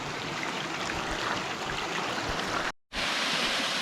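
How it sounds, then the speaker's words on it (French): A small waterfall on a river trail on Réunion rushes in a loud, dense, continuous roar, broken only by a brief moment of silence before the torrent resumes. "Une petite cascade."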